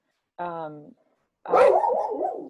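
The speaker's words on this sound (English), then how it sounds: "That's my dog Pond." A pet dog gives a single short, tonal bark up close, then after a brief pause lets out a longer, wavering whining yowl, loud against an otherwise quiet room.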